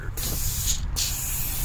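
A garden hose sprays water onto mobile home skirting in a loud, steady hiss, briefly cut off twice as the stream shifts.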